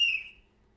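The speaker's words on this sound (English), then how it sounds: "It's so loud that it's a train whistle." A single loud, shrill blast from a police-type train whistle, bright and piercing, fading quickly within a second.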